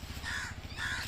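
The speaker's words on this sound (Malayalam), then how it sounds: "കാക്കകളെ ശബ്ദം കേൾക്കുന്നുണ്ട്" Two harsh crow caws sound in quick succession, fairly close and clear against a low steady background hum.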